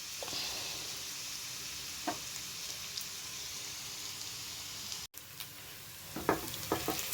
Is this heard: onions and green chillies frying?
yes